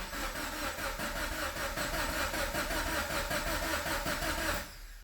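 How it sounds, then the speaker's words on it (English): A rebuilt Scion FR-S engine cranks steadily on the starter with its fuel pump relay pulled, a rhythmic, pulsing churn that stays loud for about four and a half seconds and then cuts off without catching. "I'm gonna go ahead and crank the car to get oil through it"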